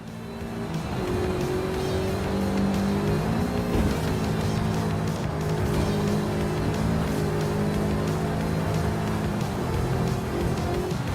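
Simulated racing engine of a tuned Lancia in F1 25, droning steadily and loud throughout with shifting revs and close, continuous tone, no talking.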